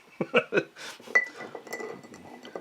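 A cork is worked back into a glass bourbon bottle, giving several quick glassy clinks and squeaky rubs up close, followed by softer scraping and tapping with faint background murmur.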